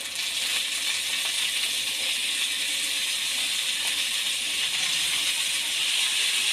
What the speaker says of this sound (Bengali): বিনস আর গাজরটা ভাজা হয়ে গেছে, এবার আমি কেটে রাখা বাঁধাকপি দিয়ে দেব।